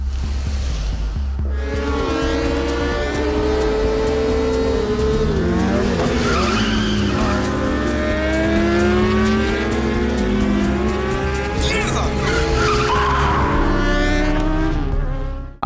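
A race car in a film racing scene loses control and runs off the track. The engine roars loudly and continuously with sweeping rises and falls in pitch, while tires screech and skid throughout, and no one speaks.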